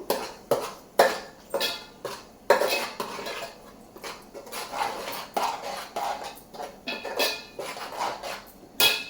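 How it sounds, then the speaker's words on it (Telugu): A spoon stirs turmeric into onion paste frying in a pan for chicken curry, repeated metallic scrapes and clinks in an uneven rhythm, close and fairly loud, with no voices. "పసుపు వేసి కొంచెం కలుపుకుందాము"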